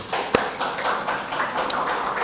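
A church congregation claps together during a Wednesday worship service, a dense, steady wash of applause with one sharper clap standing out near the start.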